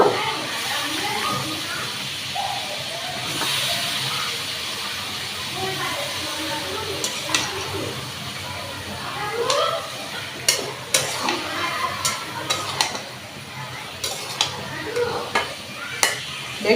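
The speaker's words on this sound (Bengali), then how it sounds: "এখন বেগুনগুলি আমি কষিয়ে নিব।" Eggplant pieces sautéed and stirred in a pan for a hilsa fish curry, giving a steady close sizzle with repeated sharp spatula scrapes and clinks against the pan that grow more frequent toward the end.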